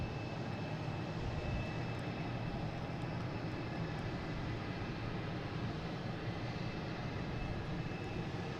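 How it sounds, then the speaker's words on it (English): An American Airlines Airbus A321neo jet comes in from Phoenix to Boston Logan, its engines a continuous, even roar with a thin steady whine, heard alone without talk. "We have an American here coming in from Phoenix, an A321neo, flight 2778"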